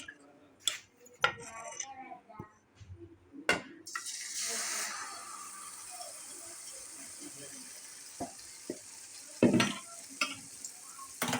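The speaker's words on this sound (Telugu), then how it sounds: "ఇప్పుడు దీన్ని తీసుకొచ్చి ఈ వేడైనటువంటి ఆయిల్ వేస్తామన్నమాట" Rice flour batter dropped into hot oil starts a soft, low sizzle that begins partway through and keeps going, among scattered utensil clinks and knocks.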